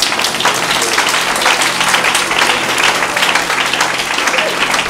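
A church congregation applauding at a service, a dense, sustained wash of clapping from a full room, steady and loud throughout, with some voices mixed in.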